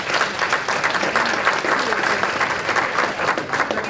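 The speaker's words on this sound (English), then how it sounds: "Let's just give our speakers another big round of applause." A crowd applauding speakers steadily, dense overlapping claps filling the whole stretch at an even, fairly loud level.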